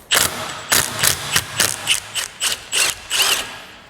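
A hand ratchet loosening 5mm bolts on a Toyota RAV4 gives about ten sharp, close, loud bursts of clicking in a quick, even rhythm, with no talk.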